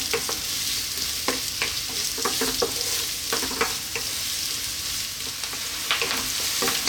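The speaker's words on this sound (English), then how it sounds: "So just giving our onions and garlic a little head start." Chopped onion and garlic fry in a pan over high heat, giving a steady close sizzle broken by repeated scraping stirs, with no talking.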